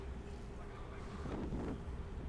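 Wind gusts across an open disc golf course, a steady low buffeting rush with a slight swell partway through, alone with no talk.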